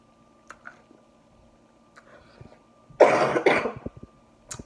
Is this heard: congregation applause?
no